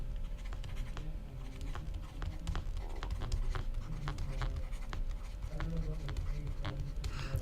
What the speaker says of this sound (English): I meant to write here, temperature dependent.